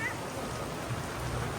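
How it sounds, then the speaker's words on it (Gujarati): Heavy downpour drenching an amusement park, a steady dense hiss of rain hitting surfaces that holds evenly throughout, with no other clear sounds above it. "અહીંયા જો ધોધમાર વરસાદ શરૂ થઈ ગયો છે."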